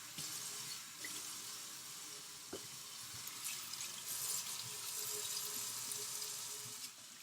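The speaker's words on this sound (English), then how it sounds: "I'm just filling up the sink with hot water." Hot water runs from a tap into a sink, a steady close splashing hiss with occasional clinks, continuous throughout.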